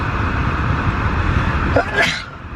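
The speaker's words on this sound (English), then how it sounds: "I'm gonna sneeze." A single person sneezes near the end, a sharp burst following a brief inhale, recorded inside a car that has just pulled up at a mall, with a constant low engine and road rumble underneath throughout.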